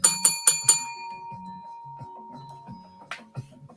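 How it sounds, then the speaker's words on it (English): A bell rings four quick, bright strikes on a boxing talk show, then fades as low voices murmur. "Let's give Xavier a bell ring."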